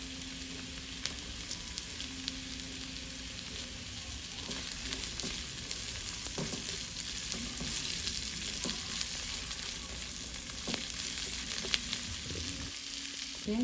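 Ginger fries in hot oil for tofu sisig, a continuous close sizzle that holds steady, with occasional light clicks of stirring and no talking.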